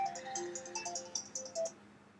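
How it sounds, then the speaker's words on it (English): A phone ringtone plays in a short run of bright electronic tones, fairly close and alone, lasting under two seconds. "oh, that's a phone call for me,"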